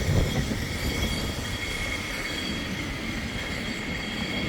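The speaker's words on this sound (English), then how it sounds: "You see the pulleys whirling away." Cable pulleys of the Great Orme tramway spin with a steady whirring, faintly metallic hum heard outdoors amid wind, continuous and fairly quiet with no voices.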